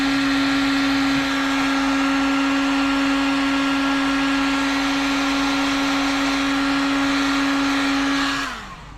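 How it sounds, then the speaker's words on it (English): A heat gun blows steadily on shrink tube over a soldered joint, a constant whining, hissing motor tone held close and loud for several seconds before spinning down at the end. "hit her with the heat gun"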